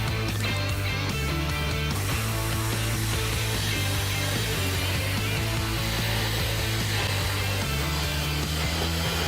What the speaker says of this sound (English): The plasma cutter just is a nicer cut and it's a cleaner job.